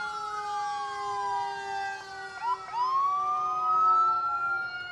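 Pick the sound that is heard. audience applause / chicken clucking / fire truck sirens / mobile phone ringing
fire truck sirens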